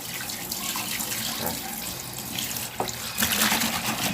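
Water running from a tap into a basin for a laundry detergent stain test, a loud continuous splashing gush close up that grows slightly fuller toward the end.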